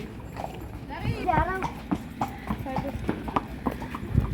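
Horse hooves clip-clopping in a steady rhythm close by, with children's voices and scattered street noise around them.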